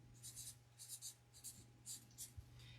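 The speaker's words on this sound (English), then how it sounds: "And so then I write Country at Heart." Quick scratchy strokes of a fine point Sharpie marker on poster board come in close, soft bursts as letters are drawn, with brief gaps between them over a low steady hum.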